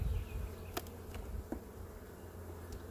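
Honeybees in an open beehive give a steady, low droning roar, with a few brief buzzes of single bees passing close over the continuous hum.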